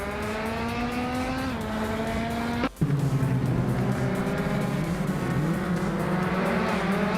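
Race cars launching at the start of a video game race at Circuit Hawaii, led by a 2013 Caterham 620R; loud steady engine drone with rising revs, a brief cut, then several engines roaring and shifting together.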